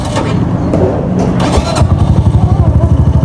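Motorcycle engine revving in short repeated bursts, loud and close, on a bike with a burst tube and slipped chain, with people talking over the start.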